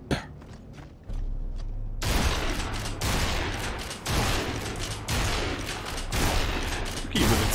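Sustained gunfire from the video game Gears of War crackles loud and dense in repeated bursts after a quieter opening with a few scattered shots, and no one speaks.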